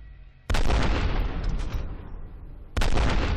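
Loud, sustained heavy gunfire from a large-calibre gun in the video game F.E.A.R., with booming bursts, cutting off briefly before another loud volley starts.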